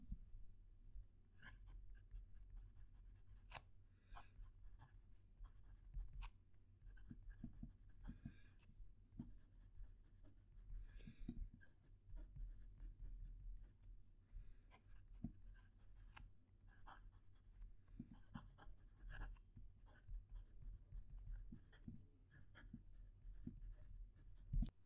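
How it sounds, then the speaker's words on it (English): Close, quiet scratching of a fountain pen nib moving across paper, with irregular strokes and small taps, over a faint low hum. "I'm going to fetch the mic close to the paper so you can hear the pen write"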